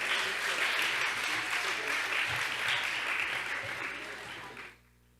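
Sustained applause fills a middle school award chapel, a dense steady crowd of clapping that holds loud for about four and a half seconds, then drops off sharply to near silence.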